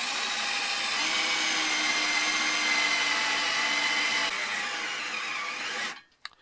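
A power drill bores into thick steel under heavy down pressure while fitting a bus seat swivel, a steady loud grinding whine running for about six seconds and then stopping abruptly.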